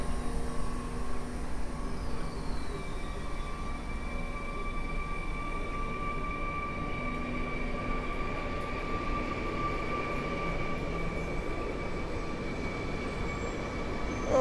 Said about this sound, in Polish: i rusza Flirt do góry Kalwarii